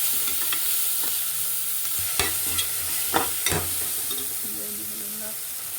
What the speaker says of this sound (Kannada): ಇದು ಚೆನ್ನಾಗಿ ಎಣ್ಣೆಯಲ್ಲಿ ಫ್ರೈ ಆಗಲಿ